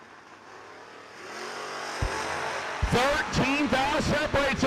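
A 1968 Chevy Camaro and a Ford at a drag race, with a loud engine rising in pitch through revving and acceleration while a commentator talks over it, getting louder toward the end.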